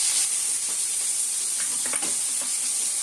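Local fish frying in oil in a small home kitchen pan, a continuous bright sizzle and hiss with a few faint clicks, no talking.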